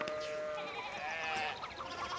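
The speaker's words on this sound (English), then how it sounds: "Sheep." Sheep bleat in the medieval-set video game Pentiment: a short, wavering animal call that sits prominently over a steady game background, with no talking.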